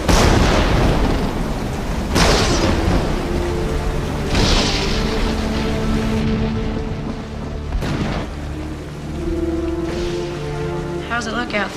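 A thunderstorm with heavy rain and gusting wind, deep rumbling thunder rolling in several times through a continuous wash of rainfall, with voices speaking over it.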